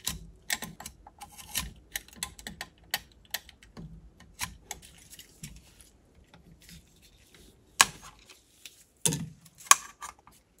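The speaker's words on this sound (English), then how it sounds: "I'm trying to give you a good view of actually cutting this hose." A utility knife cuts through an old Mercruiser Alpha One outdrive bellows hose in bad condition. Sharp, irregular clicks and scraping snaps come close up, with a few louder tearing bursts near the end.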